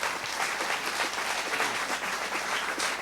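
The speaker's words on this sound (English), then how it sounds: "How about a big round of applause for Mr. Ned Overend?" An audience at an interview event gives a big round of applause, dense continuous clapping that stays even and fairly full throughout.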